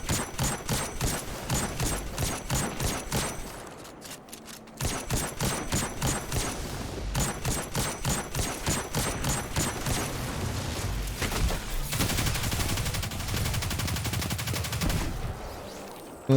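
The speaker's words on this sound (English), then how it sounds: "I drop down and I prepare to shoot at this doorway." Destiny 2 weapons fire in rapid repeated bursts inside a Legend Lost Sector, loud and close, with brief pauses between volleys and a denser stretch of steady firing toward the end and no talking.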